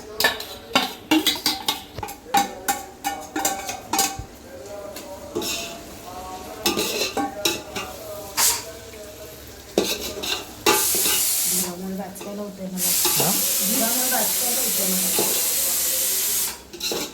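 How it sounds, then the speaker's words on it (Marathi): Prawns being stirred and fried in a pot over a wood-fired stove for prawn biryani, with repeated scraping and clinking of a spoon against metal, then a loud continuous sizzle as they hit the hot oil. "आता इकडे प्रॉन्स टाकले जातात मस्त"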